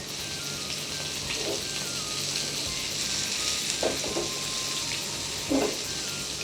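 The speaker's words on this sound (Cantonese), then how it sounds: "可以慢慢煎啊，唔需要太大火啊。" Prawns pan-frying slowly over low heat, a continuous soft sizzle with a few brief bubbling bursts of spitting oil, no voices.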